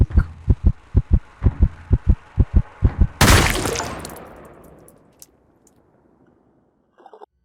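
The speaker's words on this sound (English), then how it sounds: "Waiting long enough with your heart beating faster and faster" Heartbeat from the video game Bober Bros The Hole: about a dozen deep, evenly spaced thumps that quicken slightly, then break off into a loud crash that decays to near silence, with a faint sound at the very end.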